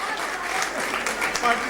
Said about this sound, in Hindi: एक बार आप तालियों से समर्थन कर दीजिए